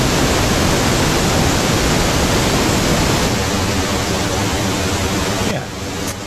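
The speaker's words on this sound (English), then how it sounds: "we're just going to use pink noise and a little bit of impulse to do this" Pink noise test signal run through a delay effect: a loud, steady broadband hiss that thins out in its second half and dips sharply near the end.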